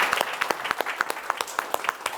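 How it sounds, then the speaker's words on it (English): Applause at an in-person awareness event in Philadelphia, with a few distinct claps standing out over a thinner background of clapping from a small audience, fairly close and brief. "So please give a big round of applause for Mr. David Dix."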